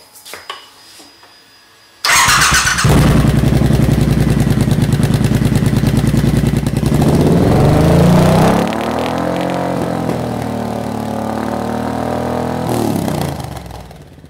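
A motorcycle fitted with a modified exhaust, its cat and baffles in question, starts up abruptly after a quiet moment, then revs hard, the pitch climbing and falling before settling into a steady loud idle that cuts off near the end.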